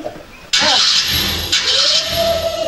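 A truck engine with a faulty third piston being cranked by its starter in a village, a sudden loud rough mechanical burst that surges twice, with voices talking over it.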